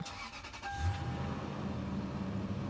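A Lexus GX470 engine with about 276,500 miles cranks briefly and catches, then settles into a steady, close idle rumble with no talking.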